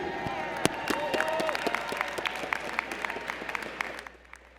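An audience at a university fall commencement applauds the new graduates: dense sustained clapping from a large crowd in a hall, with a voice faintly heard through it before the clapping thins out at the end.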